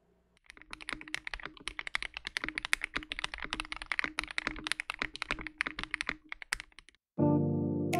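Fast, close typing on a modded KBD67 Lite mechanical keyboard tuned to be louder and clackier, with sharp, clacky keystrokes, cut off near the end by a sudden sustained tonal sound.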